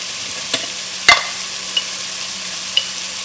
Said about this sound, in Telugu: ఆనియన్స్ వేగిపోయిన తర్వాత కొంచెం టొమాటో వేసి అల్లం వెల్లుల్లి పేస్ట్, టొమాటోస్ కూడా వేసేస్తున్నా.